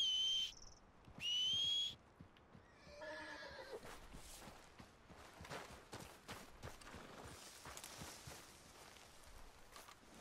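Horse whinnies in Red Dead Redemption: two bright, high neighs in the first two seconds, followed by a busier stretch of clip-clopping hooves and game ambience that carries on to the end.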